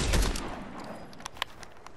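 Gunfire in the Fortnite video game: a dense early burst of shots fading into a steady background, followed by a few sharp, isolated cracks near the end, with no voices.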